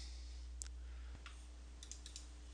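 A handful of faint, sharp computer mouse clicks spaced irregularly over a steady low electrical hum, with no talking.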